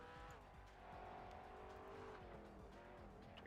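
A GT3 race car in a racing video game drifts through grass at Circuit of the Americas, a sustained engine whine with tire noise, faint and steady against a busy background.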